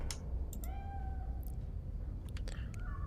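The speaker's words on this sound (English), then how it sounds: "We have a kitty cat in here." Cat meowing in the video game Iron Nest: a few rising, tonal meows in close succession over a steady low game background hum, with brief clicks around them.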